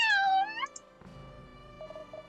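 A cartoon cat in Layton's Mystery Journey gives a bright, wavering meow, then a couple of short chirps. After that come faint game ambience and soft tonal blips.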